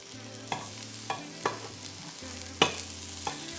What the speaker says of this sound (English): I can hear my Donair meat sizzling away.